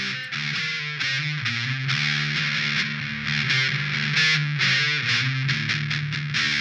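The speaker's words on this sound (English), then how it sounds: "here's what it sounds like with distortion." An electric guitar with heavy distortion runs through a Boss Tube Amp Expander, playing a steady stream of chords and notes at a loud, even level, with no talk over it.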